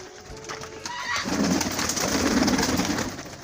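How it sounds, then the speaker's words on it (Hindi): Fancy-breed pigeons at a village farm near Faisalabad coo in soft, throaty, overlapping calls, close and continuous, with the cooing swelling louder through the middle and holding steady to the end. "मुख्तलिफ कबूतरां दी इकसाम जेहड़ियां वा ये मौजूद वा"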